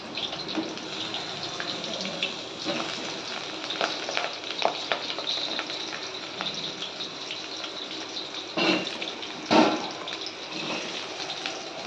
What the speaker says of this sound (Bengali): মাটনের জন্য যে আলুটা এটা ভেজে নেব।